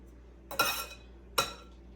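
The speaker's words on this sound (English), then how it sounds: "And this looks about 2 tablespoons of minced garlic right here. I'll go ahead and add this in. Stir that in." A utensil scrapes and clinks twice against a pan while minced garlic is stirred into a shrimp sauce, each stroke short and close, with quiet gaps between.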